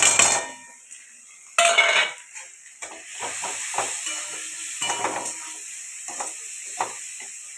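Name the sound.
frying spices with rice in a pan, stirring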